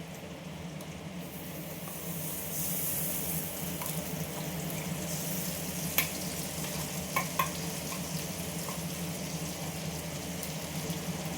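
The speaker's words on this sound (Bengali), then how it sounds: "এই মশলাটা দিয়ে দিলাম। মশলাটা এর সঙ্গে এবার নাড়াচাড়া করে নিই।" Ground spice paste frying and sizzling steadily in a hot pan as it is stirred into the other ingredients, a continuous close hiss with a few faint clinks of the spoon, no talking.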